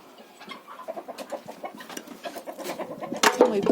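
Village chickens clucking in a yard, a run of quick close clucks building in pace and loudness, ending in a sharper burst of squawking.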